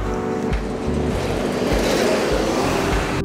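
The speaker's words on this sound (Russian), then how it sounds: "Там едет школьный автобус." A yellow school bus drives past on a downtown Salt Lake City street, a loud, close diesel rumble with low engine pulses and road noise building steadily as it goes by.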